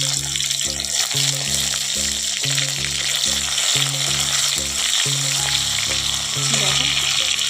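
Onions with chopped tomatoes sizzle and fry loudly in a pan over a wood-fired clay stove, a steady close hiss with a repeating low rhythmic hum underneath.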